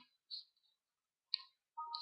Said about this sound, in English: Just keep clicking next then.